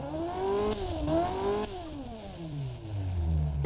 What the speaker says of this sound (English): Let's give it a bit of a listen to our mechanically fuel injected flat plane crank V8